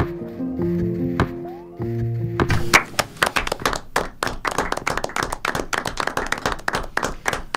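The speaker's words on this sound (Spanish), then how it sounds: "los aplausos de quienes integramos la mesa, con el jurado incluido, pero aplausos también de los propios autores que están acá sentados con nosotros en el estudio" After a brief musical tone fades, a small group of jury members and authors in a studio breaks into close, lively hand clapping that continues steadily to the end.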